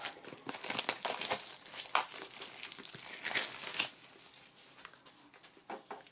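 Plastic packaging around an oracle card deck being crinkled and torn open, a burst of close crackling and rustling that tapers off into softer handling noises.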